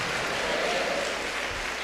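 A church congregation applauds during a service, a steady wash of clapping that sounds fairly faint and diffuse throughout.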